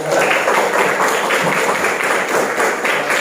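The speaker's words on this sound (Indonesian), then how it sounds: "Ya, tepuk tangan dulu buat SMP 3." A classroom of junior high school students claps for their class, a dense, even wash of many hands close by, continuous and fairly loud throughout.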